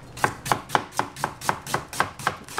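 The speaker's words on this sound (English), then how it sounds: "Cut the onion" A knife chops onion on a board in an even rhythm of about ten crisp, close strikes spaced roughly a quarter second apart, with no talking.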